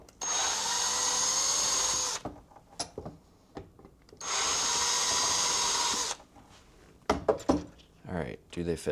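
A power drill whines in two sustained bursts of about two seconds each, fairly close. Shuffling, handling noises and people talking fill the gaps between bursts.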